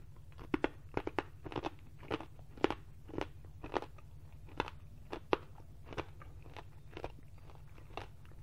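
Peanut brittle crunched between dentures, close up: a run of sharp, crisp crunches and cracks at an irregular chewing rhythm, with quiet gaps between bites and no talking.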